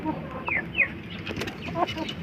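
A sick hen with a cold clucks nearby in short, scattered calls, with some wing flapping and rustling mixed in at low volume.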